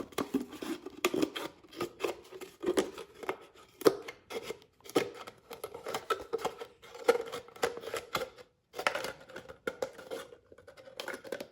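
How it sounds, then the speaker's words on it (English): Scissors snip through material, likely plastic, while a self-contained ecosystem container is made, a steady run of crisp close cuts and rustles with short pauses between strokes. "and then let them use scissors from there."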